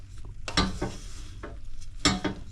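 A breakfast bites mixture being stirred in a pan, with several scraping, sizzling strokes bursting out irregularly at close range, no talk over them.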